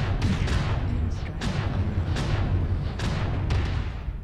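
Heavy mech weapons fire repeatedly in a brawly MechWarrior Online battle involving a Cataphract heavy mech, dense booming shots and impacts landing every half second or so over a constant loud rumble of combat.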